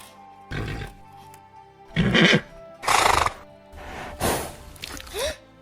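A horse in a stable whinnies and neighs in several loud, close bursts over about five seconds, separated by short pauses, with a falling squeal at the end.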